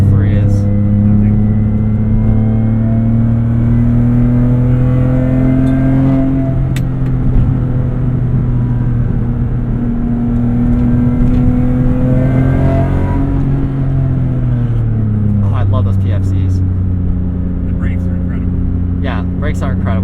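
A car engine fitted with a carbon fiber intake drones and revs with a throaty, steady low tone held above 3,000 rpm, rising and easing over twenty seconds beneath ongoing conversation inside the cabin.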